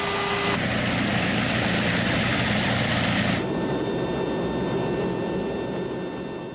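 Hercules military transport aircraft at an air base, a loud, steady turboprop roar with droning propeller tones that fades slightly toward the end.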